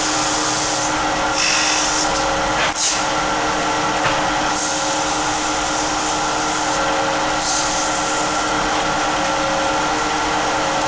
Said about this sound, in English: Just going through the grits, now going down to 400 and then finally 600.